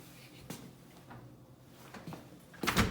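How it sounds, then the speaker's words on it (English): A door in a home workshop closes with a loud thump near the end, after a few faint knocks and shuffles, with no talking. "Close that door"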